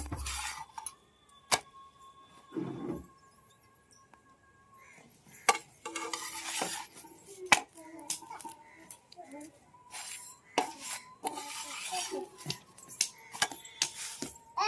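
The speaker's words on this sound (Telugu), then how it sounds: "పక్కేమో చపాతీ అయితే కాలుస్తూ ఉన్నాను" Chapati roasts on a dry pan with no oil, with faint sizzling, scattered clinks and scrapes of utensils, and occasional kitchen knocks in a quiet home kitchen.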